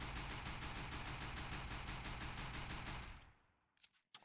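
A weapon in a shooting video game sprays a long, rapid burst of automatic fire, loud and unbroken for about three seconds before stopping abruptly, followed by a few faint clicks.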